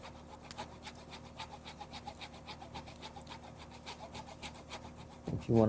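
A saw works through a bonsai branch to make a wedge cut, giving a steady run of rhythmic back-and-forth rasping strokes at close range, ending in a brief louder scrape.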